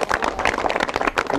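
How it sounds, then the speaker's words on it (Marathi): Loud applause from an audience cheering a winner named Manish at a prize presentation, a dense burst of clapping filling a brief moment. "जोरदार टाळ्या एकदम मनीष साठी."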